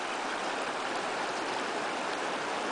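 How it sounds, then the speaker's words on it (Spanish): A river near Barreal flowing steadily, a dense, even rush of water noise with no breaks, close and constant with no voices. "Para allá va el río."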